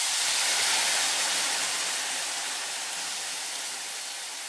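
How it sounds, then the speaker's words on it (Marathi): Dill greens (shepu) dropped into hot oil with masala sizzle in a loud, dense hiss that fades slowly, heard close up with no talking. "आता यामध्ये आपण टाकणार शेपूची भाजी"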